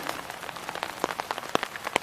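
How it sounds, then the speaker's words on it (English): Heavy rain from a tropical storm pattering on a plastic shower-liner cover overhead, a dense steady hiss punctuated by sharp, irregular drops striking close by, with no talking. "It's raining here."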